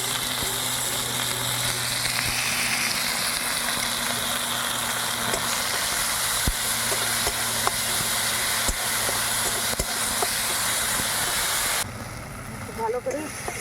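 Ginger, onion and garlic paste fries in a pan as the base for a yogurt catla fish curry, giving a steady, close sizzle and hiss that runs unbroken before dropping quieter at the end.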